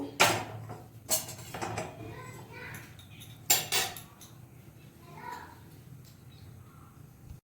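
Metal kadai set down on a gas stove while cooking chicken curry, a few sharp clanks and knocks spaced out over a quiet kitchen, with crows cawing faintly outside.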